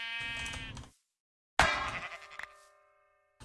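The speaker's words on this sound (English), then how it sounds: "Let's get our last sheep over here" Minecraft sheep bleating: two distinct bleats close together in the game, the first steady and the second sharper and fading, followed by a softer tonal blip and brief silences between.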